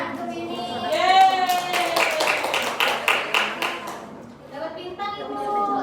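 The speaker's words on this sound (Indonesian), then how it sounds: "Tepuk tangan untuk ini." Classmates clap briefly in a classroom for a student's microteaching answer, a short burst of claps mixed with chatter as voices talk over and around it.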